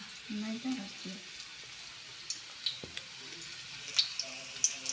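Aluvadi frying in hot oil, a soft sizzle with scattered small pops and crackles, heard faintly after a brief voice at the start.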